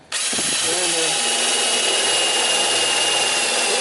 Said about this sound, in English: We're going to drill some holes in this piece of wood